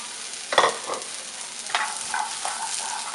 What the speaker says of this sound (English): Now with our baby eggplants from earlier, we're going to want to roast them.